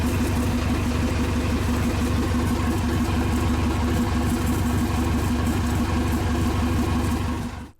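A boat's inboard engine runs steadily on a test run after new pipes have been fitted, and an exhaust leak is reported; the close, loud, rhythmic mid-pitched idle throbs evenly for nearly eight seconds before cutting off abruptly at the end.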